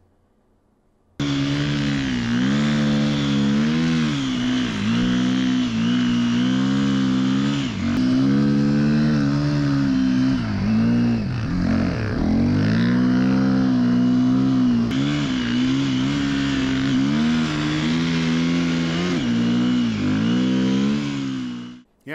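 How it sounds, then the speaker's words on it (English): Husqvarna FE350 dirt bike ridden through snowy bush, its engine revving and pulling hard for a long stretch, rising and falling with throttle and gear changes, loud and steady up close. "it's a fun little bike to ride. It's different. It sounds different. It reacts differently than a 450."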